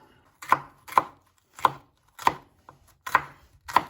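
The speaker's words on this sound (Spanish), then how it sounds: "Ahora voy a picar la cebolla lo más fina posible, la cebolla." A knife chops an onion finely on a cutting board in six sharp, close knocks spaced about half a second apart, each one distinct against quiet.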